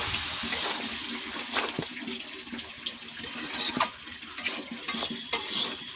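Water poured a little at a time into a pan of Katla fish curry with winter vegetables, a gurgling splash under clinks of utensils and stirring, close up with no talking.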